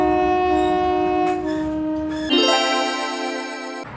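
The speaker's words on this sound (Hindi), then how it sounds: "ट्रेन फुल स्पीड में जा रही है और ये पटरी से हटने का नाम ही नहीं ले रही है।" A train racing along the tracks at full speed sounds a loud, sustained tonal horn over a constant rumble, its pitch and intensity shifting abruptly midway as it continues without pause.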